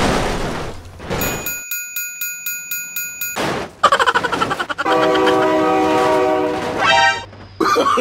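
Train in BeamNG Drive passing close by, with a regular clacking rhythm of wheels, a ringing crossing bell, then a loud sustained horn blast over the rolling rumble.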